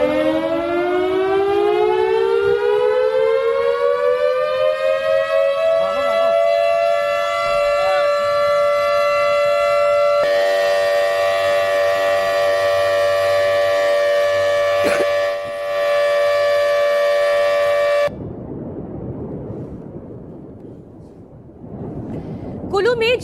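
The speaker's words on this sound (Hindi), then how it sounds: "ये हूटर जो आप सुन रहे हैं, ये हूटर इसलिए है कि जिससे कि आसपास के रिहायशी इलाकों में रहने वाले लोग सचेत हो जाएं।" A flood warning hooter sounds loud and continuous to alert nearby residents after cloudbursts in Kullu, Himachal Pradesh. Its wailing tone rises, then holds a long steady pitch and breaks off near the end into fainter background noise.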